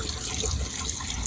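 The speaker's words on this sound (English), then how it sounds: "just press down on the blue button and it'll start dispensing purified water" Purified DI water streams steadily from a dispenser into a container, a continuous rushing, splashing flow that stays even and close throughout.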